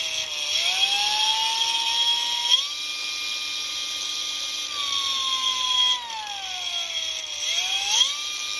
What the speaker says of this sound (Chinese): 我们用角磨机上这个磨片，然后把它稍微做一个打磨